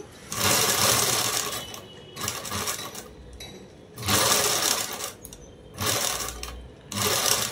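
A sewing machine runs top stitching along a home-sewn garment in five loud, close bursts of rapid whirring, separated by short pauses.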